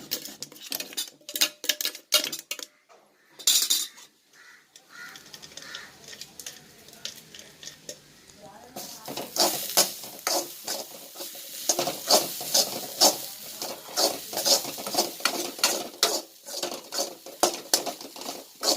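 Grated coconut dry-roasting in an empty pan, stirred with a utensil: steady scraping and clinking of metal against the pan with a soft sizzle, sparse at first and growing busier and louder in the second half, close by with no talk.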